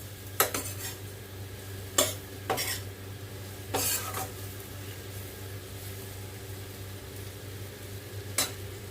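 Amla pickle is stirred in a pan over low heat: a spoon scrapes and clinks against the metal every few seconds above a low, constant background hum.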